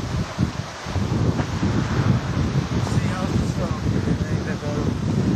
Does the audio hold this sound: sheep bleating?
no